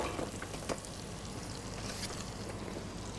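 Celery and shallots frying in melted butter in a pan: a steady, soft sizzle with faint crackles and a low background hum, continuous and fairly quiet.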